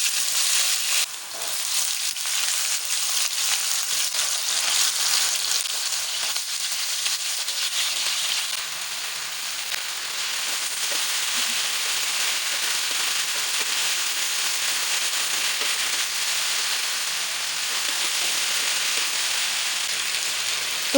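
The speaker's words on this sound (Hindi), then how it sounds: "अब ये अच्छा खासा गर्म हो चुका है। अब हम इसमें आलू ऐड करेंगे।" Potatoes frying in about a quarter cup of hot cooking oil in a frying pan, a steady, loud crackling sizzle that continues without a break for the whole stretch, with no talking.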